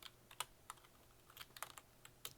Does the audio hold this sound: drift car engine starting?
no